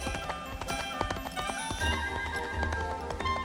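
Rapid hoofbeats clatter along in a steady galloping rhythm amid a busy, noisy backdrop of rumble and clutter.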